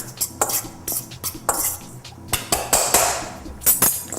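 Stuffing mixture being mixed with a fork in a bowl: a quick, irregular run of clinks and scrapes, close and fairly loud, with no talk.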